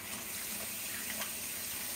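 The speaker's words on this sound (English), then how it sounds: "let me wash my hands" Hands being washed under a running kitchen tap before shrimp prep, a short, soft, steady stream of water splashing into a sink.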